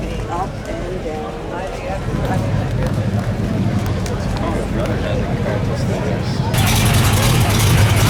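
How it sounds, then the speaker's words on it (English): Chevy 2 SS engine idling and running at an outdoor car show, a loud, steady rumble that swells partway through, with crowd chatter and voices mixed in. "Sounds like a very, very healthy motor in this Chevy 2 SS."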